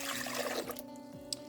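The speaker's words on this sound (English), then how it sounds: "So we will begin with 1 3/4 cups of warm water" Warm water pours into a bowl for sourdough French bread dough, a brief close trickle that tapers off and ends with a small splash.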